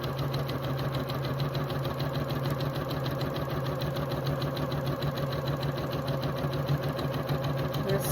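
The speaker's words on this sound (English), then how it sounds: "I'm going to start sewing 1/4 inch away from that red line." A sewing machine stitches half-square triangle fabric pieces in a steady, fast, even whir with a rapid mechanical tapping rhythm, close and continuous for the whole stretch with no voices.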